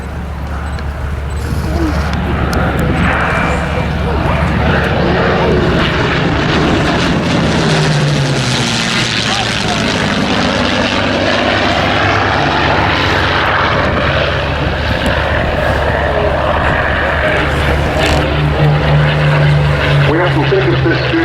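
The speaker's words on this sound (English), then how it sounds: "the Mustang is now clearing because here comes the Hurricane to do his display" Piston-engined WWII fighters, a P-51 Mustang clearing as a Hawker Hurricane comes in for a display at an RAF Cosford airshow, give a loud sustained propeller-engine drone throughout, with a public-address commentator talking over it.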